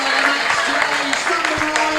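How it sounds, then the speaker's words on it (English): Steady crowd applause fills the air at a football match between Slough Town and Poole Town, continuous clapping with a commentator speaking over it. "Dobson getting a huge round of applause for his performance here today"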